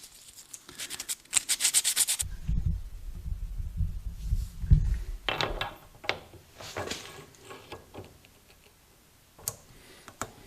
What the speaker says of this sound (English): Just a little bit of sanding makes it a little better